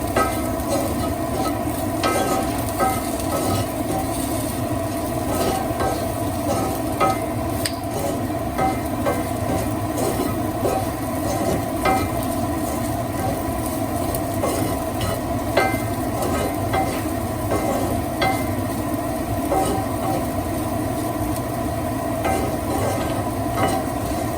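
Raw banana slices being tossed with chili powder in a hot pan, a steady soft scraping and stirring sizzle that runs unbroken and evenly for the whole stretch, with no voices.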